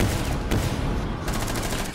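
Automatic gunfire in Rainbow Six Siege, a dense burst of rapid shots running steadily through the whole stretch, loud and close with no voices.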